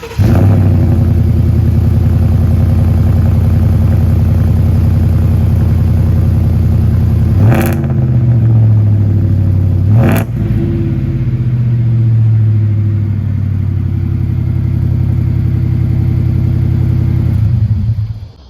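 A Ford F-150 engine with a brand new exhaust holds a loud, steady idle-to-rev drone, broken by two sharp gear-like bursts where the pitch drops and climbs again, close up with no voices.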